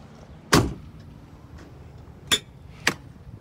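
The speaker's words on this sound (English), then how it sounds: "The doors will lift off and they will lock." Door hardware on a Polaris Ranger Crew utility vehicle clunks once sharply, then two lighter metallic clicks follow as the door is lifted off and locked, close and moderately loud with quiet gaps between.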